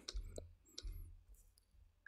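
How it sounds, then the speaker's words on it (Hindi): Studio One metronome clicks sounding as the click is toggled on and off, a few sharp, faint ticks spaced irregularly in an otherwise quiet room. "ये मेट्रोनोम है यहाँ से ऑन या ऑफ हो जाता है"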